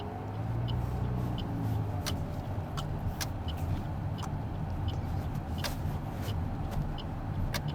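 Cars on an Australian roundabout approach quickly and drive around it, giving a steady close road roar with passing tyre noise and a few faint clicks throughout.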